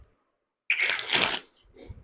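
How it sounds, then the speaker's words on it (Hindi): Classic plastic playing cards being shuffled at a live magic and mind-reading show: one sudden, close riffling burst lasting under a second, then a faint rustle. "I like the sound of these cards."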